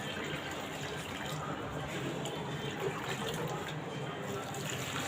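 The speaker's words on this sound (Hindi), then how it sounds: "पेड़ों में पानी दे देता हूँ।" Water poured onto street trees, a steady low splashing and trickling wash that runs continuously, faint and somewhat distant in an outdoor lane.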